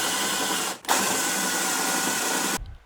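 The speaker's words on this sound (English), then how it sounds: "while I drill, just enjoy looking at the sights" A power drill bores out spot welds on a rusty Mercury Sable rocker panel at the driver's door opening, a steady loud whine that drops out briefly near the start, resumes, and cuts off abruptly.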